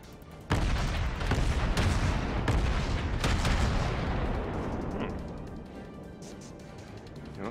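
Several heavy warship cannon blasts from a double turret in World of Warships boom in quick succession, each with a long rumbling tail, then fade to a quieter background with a few lighter pops.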